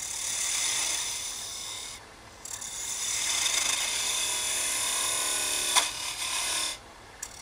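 A lathe spins an awl handle of very tough, coarse and chippy wood while a tool rounds it over, giving a steady close hiss of cutting with brief dips and one sharp scrape.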